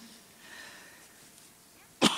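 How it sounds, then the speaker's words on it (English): Someone speaking at a college talk on Nazi resistance gives a single sharp, close cough near the end, after a stretch of quiet room tone. "Because of my coughing"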